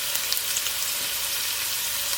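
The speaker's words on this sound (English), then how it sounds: "I want the wine to come to a boil and then reduce." Red wine with herbs heats in a pot for pot roast, giving off a steady, soft sizzling bubble that runs continuously at close range with no talking.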